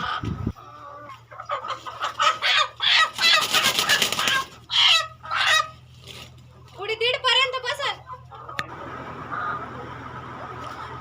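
Hens cluck in short bursts over a steady hum inside a poultry shed, with people talking nearby.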